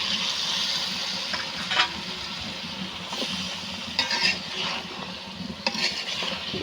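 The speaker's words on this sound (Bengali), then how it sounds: "মাছটা কষানোর পরে লাউটা দিয়ে কষিয়ে নিচ্ছি।" Bottle gourd and fish sautéing together in a pan, a steady hissing sizzle with scraping stir strokes at intervals and no voices.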